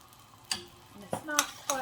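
Butter heats in a pan with a soft, low sizzle under faint kitchen clatter, a few light clinks of a utensil against the metal rising above the quiet hiss.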